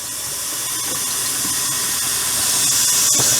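Hot water tap on a Class C motorhome runs while pink antifreeze is pushed through the line, driving water out: a steady, close rushing hiss that swells slightly louder toward the end, with no talking.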